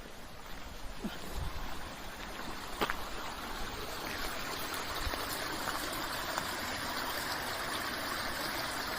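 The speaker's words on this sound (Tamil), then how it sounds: "தண்ணி வந்துக்கிட்டே இருக்குதுங்க மழை பெஞ்சதுனால." Rainwater streams and gushes steadily beside the Yercaud loop road in the hills, a continuous close rushing wash with a few faint knocks.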